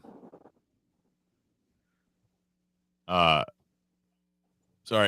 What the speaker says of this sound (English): Had a hiccup in the middle of talking.